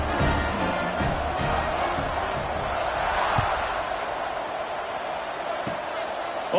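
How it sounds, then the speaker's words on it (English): A football stadium crowd in a video game of an SEC matchup buzzes and roars continuously after a score, a loud sustained wall of voices with scattered shouts and a thump or two. "this crowd is buzzing after that last score"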